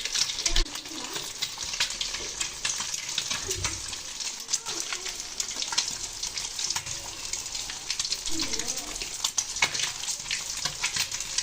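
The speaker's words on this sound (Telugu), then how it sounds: "కడాయి పెట్టుకొని ఆయిల్ వేసుకోవాలండి అందులోనే ఒక త్రీ ఎగ్స్ వేసుకోవాలండి" Three eggs fry in oil in a kadai for egg noodles, giving a continuous close sizzle with occasional spatters and scrapes, with some faint background sound.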